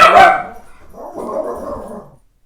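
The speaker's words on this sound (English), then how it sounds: "I think that barking outburst is over" A dog barks loudly nearby, a sharp yip followed by a longer, fading bark-whine, with no talking.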